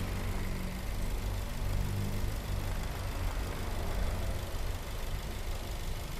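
Suzuki Avanza engine idling with a small bearing noise, a steady low rumble with a continuous mechanical whir and faint rattling texture, close and constant throughout.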